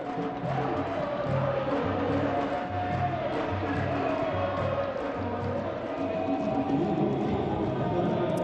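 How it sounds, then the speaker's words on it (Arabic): Yemeni football fans fill a stadium during a Yemen versus Bahrain match, producing a dense, distant crowd roar with rhythmic drumming beating in steady repeated bursts underneath. "هنا الجماهير اليمنية الحاضرة"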